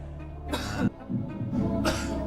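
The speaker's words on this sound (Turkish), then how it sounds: "Bir öksürük sesi duyuluyor ve ardından o cevabı seçiyor" Two sharp coughs about a second apart in a television quiz show studio, fairly close, over a steady low background hum.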